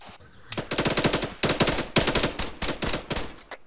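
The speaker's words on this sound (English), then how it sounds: "you're taking fire from southwest." Rapid machine-gun bursts rattle in quick repeated volleys, loud and close, across a military-style tactical operation, with short gaps between strings of shots.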